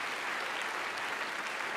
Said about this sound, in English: I would really like to invite one more round of applause for Robert Rosencrantz